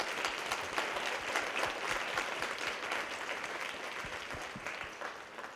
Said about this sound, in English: London is clapping